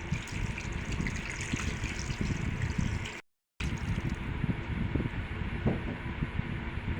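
Water is poured into a pumpkin and stinging catfish mixture as a steady, rushing gush. The flow breaks off briefly partway through, then resumes.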